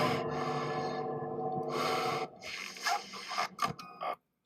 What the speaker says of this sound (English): Sounds like there's a bit of heavy breathing going on there.